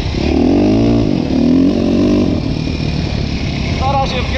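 A motorcycle engine revs in two rising bursts, loud and close, then settles to a rough idle under a man's speech in Polish.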